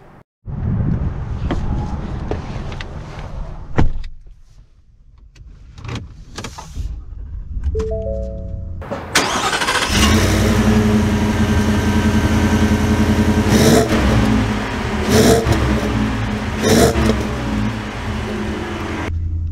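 A 2023 Ford F-150 XL with a 5.0 V8 starts up after a few cabin clicks and a short electric whir, then settles into a steady engine drone as it pulls away, loud and close from inside.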